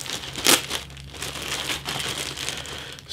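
A resealable plastic bag holding model kit sprues for a 1/48 scale Tempest Mk.II is opened, giving a close, sharp crinkle followed by softer rustling and crumpling plastic.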